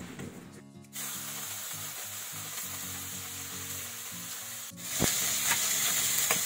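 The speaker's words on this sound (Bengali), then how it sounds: "কড়াই গরম হয়ে গেছে, কড়াই তেল দিয়ে দিচ্ছি। এখন আমি মাছগুলো ছেড়ে দেবো।" Khoyra fish hit hot oil in a kadai and set off a sudden, steady sizzle, with a sharper, louder burst of spattering frying a few seconds later.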